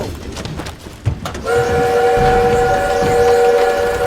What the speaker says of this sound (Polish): Musimy zatrzymać ten pociąg!